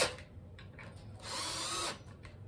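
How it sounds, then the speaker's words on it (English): A power drill drives screws into a 30-inch wooden piece for a tufting frame, with short whirring bursts and then one longer, louder run, close up. "And we're going to drill these in."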